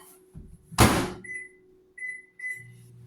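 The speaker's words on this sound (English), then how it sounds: "I'm just going to use this microwave right here." Microwave oven handling butter for melting: a loud door thunk, then a short series of electronic beeps and a low hum as it starts, close by with no talking.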